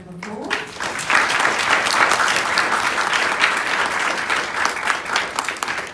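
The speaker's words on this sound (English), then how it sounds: "why don't we give Antoinette a round of applause?" An audience at the H5P Con 2018 conference breaks into sustained applause after a presentation, a dense even clapping from a room of people lasting several seconds.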